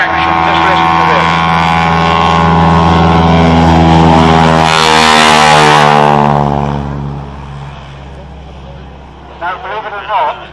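Large model aircraft with a propeller engine taking off at full power at a model flying event, a loud steady droning roar that swells and then fades into the distance, with a brief voice near the end.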